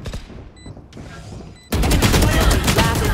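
Gunfire in the tactical shooter Valorant during a spike-planted round, starting with faint, sparse shots and then a sudden loud, sustained burst of rapid automatic fire filling the rest of the moment.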